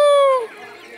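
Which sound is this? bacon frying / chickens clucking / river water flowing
chickens clucking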